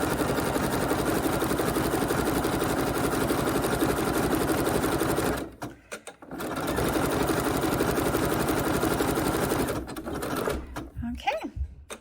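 A sewing machine stitches thin dress fabric in a steady, loud, fast run. It stops briefly midway, resumes, then winds down near the end.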